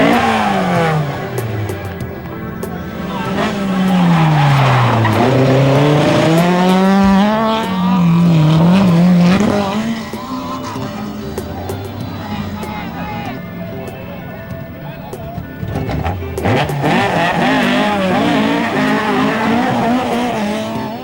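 Rally cars sliding past spectators at close range, engines revving hard and rising and falling in pitch as the cars pass, tires squealing, with a loud swell in the middle and more cars coming in near the end.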